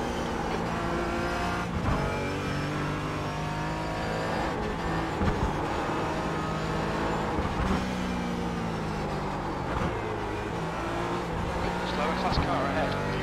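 A race car in iRacing sweeps past with a steady, loud engine drone and shifting pitch, other cars audible around it, under continuous commentary from a voice.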